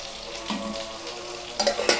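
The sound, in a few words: sliced onion frying with garlic in a pan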